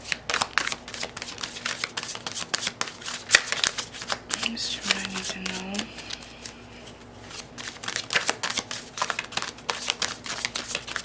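Tarot cards being shuffled in a deck, a dense run of fast riffling flicks and slaps that carries on almost steadily, fairly close, with a brief soft tone in the middle.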